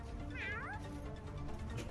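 Cat meows in two rising-then-falling calls near the start, close and clear over a steady background of game noise and music.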